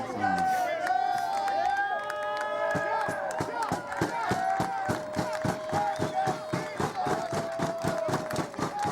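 A packed crowd at an indoor wrestling event yells and chants, with loud rhythmic stomping or pounding beats throughout and commentators talking over the din.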